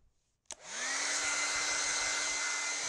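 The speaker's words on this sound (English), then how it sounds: "Take the old hair dryer I stole from my wife." An old hair dryer clicks on after a brief quiet moment and settles into a steady, loud, continuous whoosh of blowing air with a high motor whine, running alone while heating a bent drone part.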